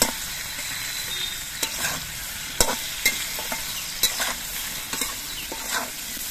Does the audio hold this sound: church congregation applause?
no